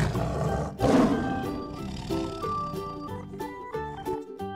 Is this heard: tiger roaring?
yes